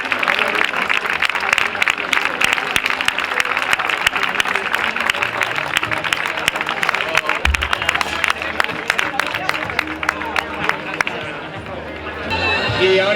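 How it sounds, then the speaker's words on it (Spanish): At a Zaragoza half marathon trophy ceremony, a crowd claps steadily for the three women winners, with dense, continuous applause and murmuring voices throughout. "Y un fuerte aplauso para las tres ganadoras de esta bonita mañana en Zaragoza."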